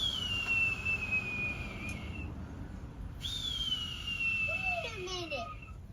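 A person whistles long, slightly falling tones imitating a bird, with a few quick chirpy slides near the end over a low hum.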